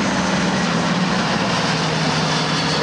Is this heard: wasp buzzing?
no